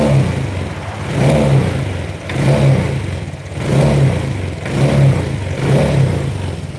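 A Honda Vario scooter engine revs up and settles back in a repeating cycle, four or five rising surges of throttle heard close and loud with no voices.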